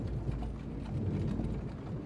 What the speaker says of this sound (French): les chevaux trottinent.